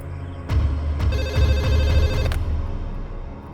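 A telephone bell rings loud and close in a domestic scene from a Bhojpuri family drama, sounding as a quick run of repeated electronic trills that stops abruptly after about two seconds, with no voices over it.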